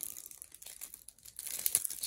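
A Marvel Champions Crossbones card pack wrapper from Fantasy Flight Games is torn open close by, giving two seconds of crinkling plastic that grows louder toward the end, with no talking.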